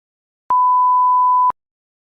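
A single electronic beep marking the start or end of an exam listening section, one steady clean tone of about a second with sharp onset and cutoff, alone in silence.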